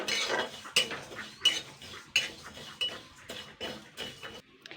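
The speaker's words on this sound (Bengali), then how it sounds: "মুগের ডালটা দিয়ে কিন্তু আমি জাস্ট 2 থেকে 3 মিনিট হালকা নাড়াচাড়া করে নেবো" A spoon scrapes and stirs dry mung dal in a dry pan without oil, with repeated clinking strokes at a steady rhythm, close and moderately loud, no talking.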